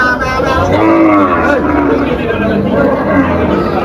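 At the Tepakhola cattle market, cows low in drawn-out moos amid a busy crowd, with people talking and chattering throughout over a steady outdoor hubbub.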